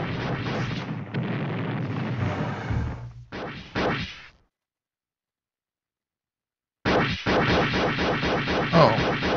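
In a video game match, rockets fire and explode in heavy, roaring blasts. A loud stretch gives way to a few seconds of total silence, then another burst of booming fire follows.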